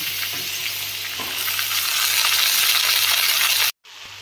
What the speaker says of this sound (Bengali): এবার আমি শাকটা দিয়ে দিচ্ছি, লাউ শাকটা কেটে রেখে দিচ্ছিলাম, এটা লাউ শাকটা দিয়ে দিচ্ছি।